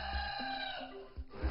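A rooster crows outdoors in the humid countryside near Nanping, Fujian, its long drawn call rising over steady background noise, with a few low thuds underneath.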